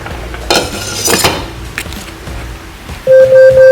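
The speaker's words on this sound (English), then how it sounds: "we'll just give this a quick stir to check how is it going" A spoon stirring fish congee in a metal cooking pot, giving a few close, loud scrapes and clinks against the pot, followed by a sustained electronic beep near the end.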